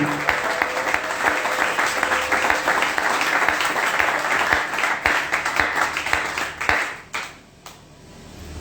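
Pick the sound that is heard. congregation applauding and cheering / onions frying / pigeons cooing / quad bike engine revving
congregation applauding and cheering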